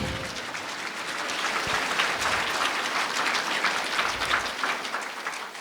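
A church congregation applauds loudly and steadily, a dense, continuous wash of many hands clapping together with no talk over it.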